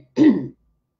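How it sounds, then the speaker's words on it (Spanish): A single short, gruff throat clearing, close and fairly loud, lasting under half a second. "Ay, qué carraspera la que tengo"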